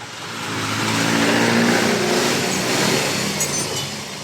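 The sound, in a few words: motorcycle engine running after spark plug replacement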